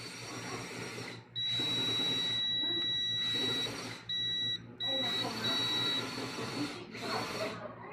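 Test meter buzzer beeping during repair of a Marshall Kilburn II portable speaker with a no-power fault: several steady electronic tones in repeated bursts, close and fairly loud, with a background hiss between them.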